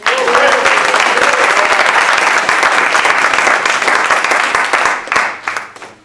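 Applause from an audience at a Rev. Martin Luther King tribute concert, honoring a musician, sounds as dense, steady clapping that carries loud for about five seconds and then thins out and fades at the end.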